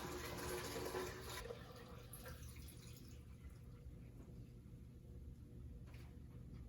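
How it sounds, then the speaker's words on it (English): Fig water kefir pours into a pitcher through a strainer, a steady splashing liquid stream that is loudest at the start and then settles into a continuous gurgle with no voices. "I'm gonna pour it into a pitcher with a strainer"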